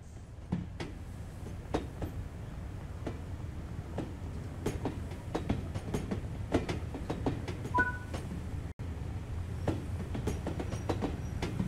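Rail wagons of a steam freight train, an LMS Stanier Class 8F locomotive in a Train Sim World 3 simulation, roll into a platform with steady rumbling and irregular clickety-clack wheel clicks, heard alone from close by.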